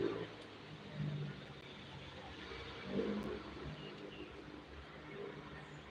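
Vehicles pass at a distance outdoors, engine swells rising and fading a few times over a low, steady background rumble.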